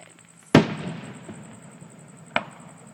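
Fourth of July fireworks at Briarwood Country Club: one sharp, loud bang with a crackling, fading tail, then a second, softer report about two seconds later, with no talking.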